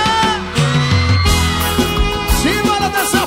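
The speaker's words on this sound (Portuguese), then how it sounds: "Cadê o grito da galera?" A live forró concert crowd in Tianguá yells and whoops in loud bursts, raucous shouting rising and falling close by.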